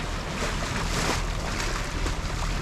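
A sailboat running under engine on a river, bouncing over choppy current waves: steady, dense rushing of water and wind noise fills the whole stretch, close and unbroken, with no voices.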